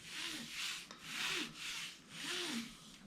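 Graphite pencil sketching shapes on paper, quick strokes scratching and rubbing in three long sweeping passes, close and fairly soft, no voices.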